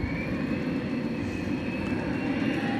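An American Airlines jet at DFW Airport, a steady broad engine roar with a faint high whine, moderately distant and continuous for the whole moment, with no voices.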